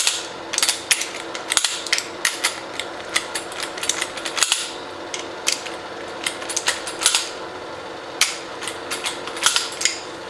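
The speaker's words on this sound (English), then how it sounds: "if you're slow with the torque wrench, you can stretch the bolts" Torque wrench clicking and ratcheting as bolts are tightened during final assembly of a Subaru BRZ, a close series of sharp mechanical clicks and ratchet bursts in irregular clusters, with no talk.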